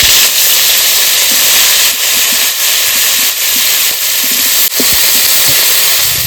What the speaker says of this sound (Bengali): তেল আছে, ফুলকপিগুলো ভেজে নেব।